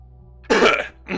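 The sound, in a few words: throat clearing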